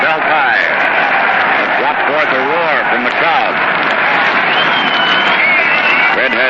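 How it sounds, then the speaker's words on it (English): A World Series baseball crowd roars in a dense, sustained wash of noise from the stands, heard on an old radio broadcast beneath the steady voice of an announcer. "It brought forth a roar from the crowd."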